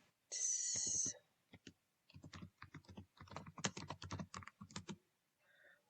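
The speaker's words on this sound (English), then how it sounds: "For instance, you can type your own logo here." Quick, light clicks of typing on a computer keyboard while entering text in a graphic design program, following a brief high tone at the start, with no speech.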